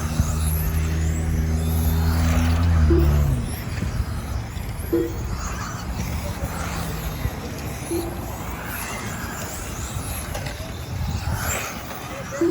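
RC cars racing down the front straightaway at The Lap Factory track in Santee, California: a high, buzzy motor whine sweeps past amid track ambience, with a low engine rumble early on and a race announcer talking.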